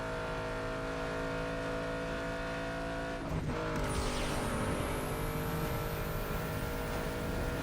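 A Ford Mustang engine in Need for Speed: Underground 2 on PS2, a steady loud drone that dips sharply, then surges as the nitrous boost kicks in, rising into a higher whine that climbs continuously.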